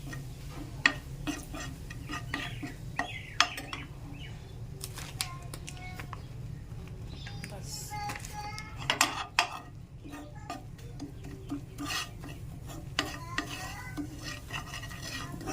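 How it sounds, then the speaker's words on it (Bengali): A spoon scrapes and stirs gram flour gently sizzling in oil in a pan, with soft repeated ticks and knocks over a low steady hum. "বেসনটাকে নাড়া দিয়ে নিচ্ছি সুন্দর করে তেলের মধ্যে, ভাজা করে নিচ্ছে হালকা"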